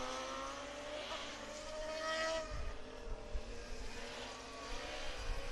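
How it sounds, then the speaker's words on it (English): A Formula Student race car from Romania roars past on a track during an endurance event, engine pitch sliding as it passes, then fading into a distant hum with some low thumps. "A very noisy experience to see the car from Romania on track"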